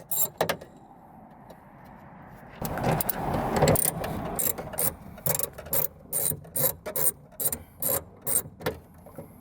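A ratchet wrench loosens bolts on the trunk trim of a Chevy Cruze during a trunk switch repair, starting with a rough scraping stretch and then giving a steady series of crisp, close clicking bursts with no one talking.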